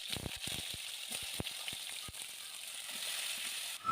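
Eggplant fries in hot mustard oil with a dense, fairly quiet sizzle, broken by quick clicks and taps of a utensil near the start, and no speech.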